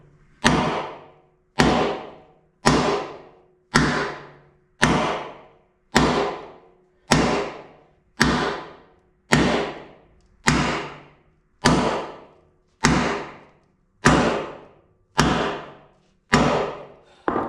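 Heavy metallic hammer blows strike a stuck bolt on a 1994 Suburban at a steady rhythm, about fourteen sharp impacts each ringing briefly before the next, loud and close.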